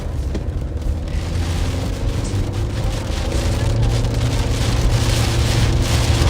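Steady rain pours down during a tornado storm in Minnesota, a dense continuous hiss of drops on surfaces with low rumbling wind underneath, close and fairly loud throughout.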